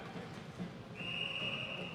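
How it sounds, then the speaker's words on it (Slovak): A referee's whistle signals icing in an ice hockey game, one sustained shrill blast about halfway through, quiet and distant over faint arena murmur. "A píska sa zakázané uvoľnenie."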